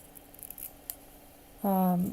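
Scissors cut through material while building a room box, with a single sustained crisp snipping pass near the end after quiet handling sounds, close up and fairly loud, no talking.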